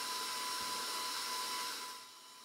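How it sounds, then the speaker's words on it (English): An electric mixer whirs steadily at close range while beating sugar into creamed butter and cream cheese, a bright continuous motor hum that eases off slightly toward the end. "Add your sugar to the creamed butter and Philly a ½ cup at a time, and then mix until it's nice and pale and fluffy"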